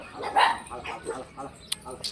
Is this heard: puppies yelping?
yes